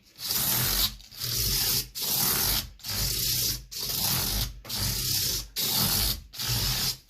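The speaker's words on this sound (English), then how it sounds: "Now I'm going to use, use this little cork block, I think it's some of that, bit of sandpaper." Guitar frets being sanded with sandpaper wrapped around a small cork block during fret levelling. Eight even back-and-forth rubbing strokes, each close and clear and a little under a second long, are separated by short pauses, with no talk.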